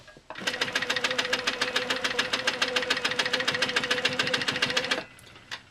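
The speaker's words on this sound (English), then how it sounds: "Now I'm going to stitch in the ditch." Sewing machine stitching in the ditch on a quilt block, a fast, even needle rattle at close range that runs steadily for about five seconds and then stops, with no voices.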